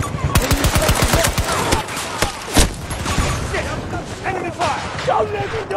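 Gunfire in the video game Battlefield 2042 on PS5 sounds as rapid automatic bursts, loud and close, early on, followed by a heavy single blast and scattered shots, with game radio voices and chatter mixed in.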